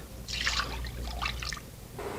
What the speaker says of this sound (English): I'm going to rinse my pan with some water.